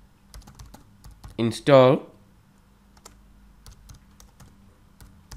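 Quiet, close computer keyboard typing of a command at a command prompt, a steady run of soft key clicks interrupted briefly by a spoken word.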